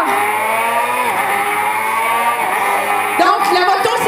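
Racing motorcycles at the start of a race, engines droning with layered tones that climb in pitch as they accelerate, loud and close, then shift sharply as gears change near the end.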